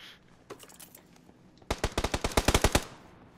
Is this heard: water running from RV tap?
no